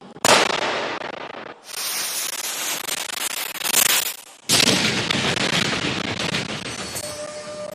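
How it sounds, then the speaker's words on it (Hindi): Ceremonial cannon fire at a tribal heroes' commemoration event at Garrison Ground, Jabalpur: loud booming blasts with crackling, echoing decay, a short gap, then another heavy burst that rumbles on outdoors. "तोप के धमाके के बाद"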